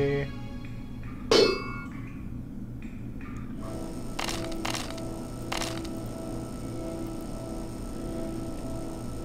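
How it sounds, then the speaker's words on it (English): A single sharp, metallic crack of a wrench smacking an enemy in the video game Septerra Core rings out near the start, followed by quieter game clicks and tones over a low ambient hum. "finally smack him with a wrench"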